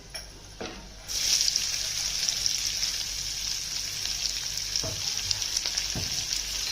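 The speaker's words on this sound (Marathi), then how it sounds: "तर कांदा टाकते चिरलेला." Chopped onion hits hot oil in a pan for kulith pithla, setting off a loud, steady broadband sizzle that holds for several seconds after a quieter start, with a couple of soft clinks and no talking.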